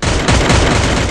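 Gunfire in the battle royale video game Free Fire: a loud, continuous burst of rapid shots and booms packed tightly together, close and dominant with no talk.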